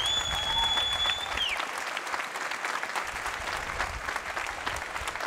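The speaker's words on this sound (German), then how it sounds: "Also nochmal riesiges Applaus" Loud, sustained applause from a large crowd at an MMA middleweight title fight fills the whole stretch, with a fading whistle-like tone at the start.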